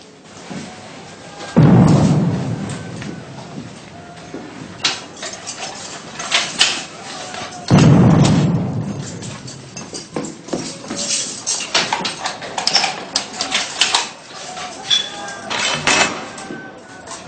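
Two heavy cannon salute booms several seconds apart, each a deep blast rolling out, with scattered clatter and faint voices in between.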